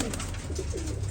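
Pigeons coo steadily in a breeders' loft, their low, throaty calls overlapping in a continuous close murmur with no voices present.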